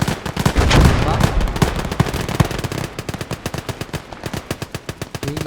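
Machine gun suppressing fire in the World War II strategy game Gates of Hell during an assault on Isigny: a dense opening barrage settles into a steady, evenly spaced rattle of loud, close shots.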